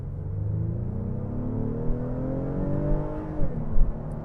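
A Honda Pilot Trailsport SUV engine accelerates in sport mode after a U-turn, a steady rising drone with climbing harmonics heard from inside the cabin, growing slightly louder toward the end.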